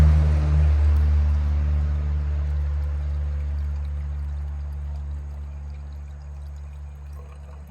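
Distilled water pours into the radiator overflow tank of a 2006 Land Rover Range Rover, a steady close liquid rush that slowly tapers over several seconds, with no talking.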